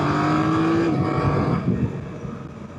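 A 2024 BMW F 900 GS motorcycle pulls hard under acceleration, its engine note loud and steady before easing off, with strong wind rush over the rider.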